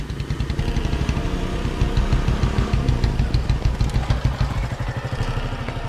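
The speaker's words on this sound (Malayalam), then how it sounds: "ബൈക്കിന്റെ സൗണ്ട് കേൾക്കുന്നുണ്ട്." A motorcycle engine runs close by with a loud, rhythmic putter of rapid, regular firing pulses that stays steady for several seconds, with no voices.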